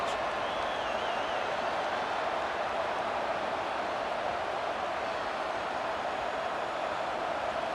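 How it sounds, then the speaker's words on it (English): A steady, dense stadium crowd roar from College Football 25, in a Clemson Tigers vs Texas Longhorns bowl game on a defensive third down, holds constant and loud throughout with no clear breaks. "Decibels rising as the crowd gets behind this defense on third down"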